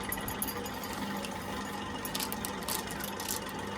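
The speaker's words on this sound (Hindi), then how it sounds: "अब एला पीस दूँ मिक्सी में" An electric mixer grinder whirs steadily while grinding green chillies in a home kitchen, a continuous buzzing motor drone with a few brief rattling surges near the end, no talking.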